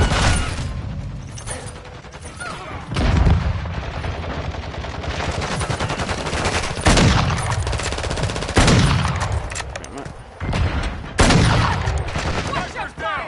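Bursts of automatic gunfire from the video game Modern Warfare 2, several loud volleys separated by short pauses, with mechanical clicks and booms between them.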